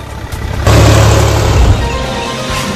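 A tractor engine on a farm where flower plants are being cleared: a low engine hum builds, then jumps sharply into a loud, steady mid-pitched roar that holds, dips slightly and continues near the listener, with no talk.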